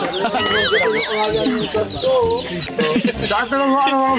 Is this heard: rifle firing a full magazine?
no